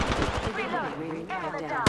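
Rapid gunfire from Apex Legends, a burst of automatic shots up close followed by continuing fire, mixed with game effects and a faint voice.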